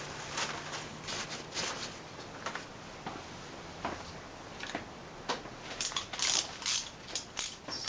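Sparse ratchet clicks from work on a BMW E36 primary timing chain tensioner, scattered at first and faint, then a quicker run of louder, close, sharp clicks toward the end.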